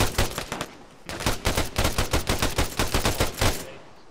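Arma 3 gunfire erupts as a sustained stream of rapid, evenly spaced automatic shots, loud and close, after a few opening cracks.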